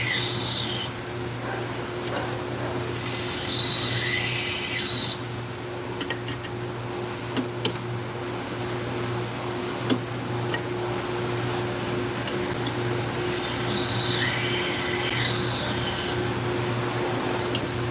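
A small knife sharpening machine hums steadily with a constant drone, while two bright rasping bursts of a blade being ground ring out at its start and again near the end.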